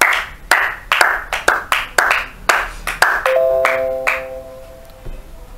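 A church congregation claps in rhythmic bursts of applause, loud and close, while bright sustained tones ring out toward the end as the clapping thins.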